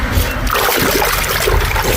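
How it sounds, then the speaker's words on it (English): Water poured onto a rag during drywall mud work in a window remodel, a close, loud continuous splashing trickle lasting about two seconds with no talking. "Take this rag, pour a little water."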